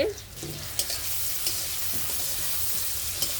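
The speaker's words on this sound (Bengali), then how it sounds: "আমি গরম তেলের ভিতরেই আবার পেঁয়াজ কুচি দিয়ে দিচ্ছি" Chopped onion sizzles in hot oil left over from frying fish, a steady, close, broadband hiss with a few sharp crackles and pops scattered through it and no voices.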